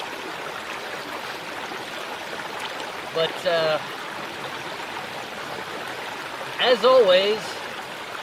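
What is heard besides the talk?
babbling brook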